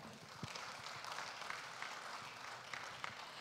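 Audience clapping at an Indonesian wealth management conference, a soft, distant, even wash of applause from a seated crowd lasting the whole stretch.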